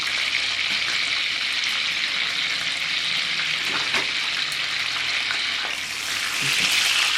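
Kerrygold butter melts in a hot pan with a steady, close sizzle that hisses evenly throughout, a few soft scrapes and clicks of a utensil breaking through the bright crackle.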